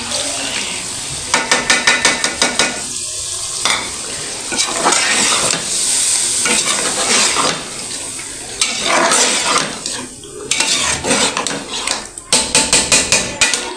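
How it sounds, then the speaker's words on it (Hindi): Chicken liver (kaleji) fries loudly in a pan, a dense hiss broken by repeated sharp clanks of a utensil against the metal. "ये ले, अभी इसकी भुनाई होगी"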